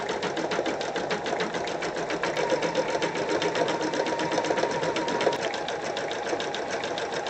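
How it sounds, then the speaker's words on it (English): A computerized embroidery machine stitching with variegated thread as it fills in a design, giving a fast, steady, loud mechanical chatter that runs continuously and evenly throughout. "the embroidery is just skirting around the name box now, and it'll continue down and fill in as it goes"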